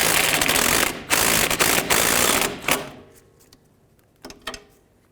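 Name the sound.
ratchet tightening 12mm bolt on Toyota Camry strut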